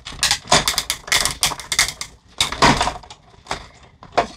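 A die-cutting machine cranks a standard cutting plate through with a string of loud ratcheting clacks and thumps in uneven bursts, close and alone.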